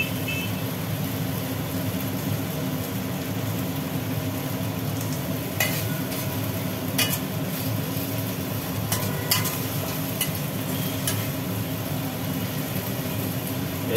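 Ginger paste frying in a pan with garlic paste, a steady low hiss of hot oil running throughout, broken by a few sharp scraping clicks of a spoon stirring.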